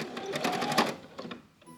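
A sewing machine stitches fabric for a human-sized Halloween bat costume, its rapid mechanical chatter running in quick bursts, close and fairly loud, then tapering off into quieter intermittent clicks.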